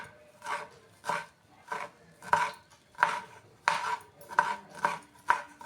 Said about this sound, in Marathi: असे मी सगळे चिरून घेते बारीक बारीक